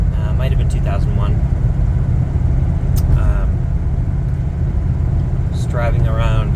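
A turbo diesel Mercedes-Benz car drives at night around Hampton, New Hampshire, giving a steady, close, loud low engine and road rumble throughout, with brief voices near the start and end.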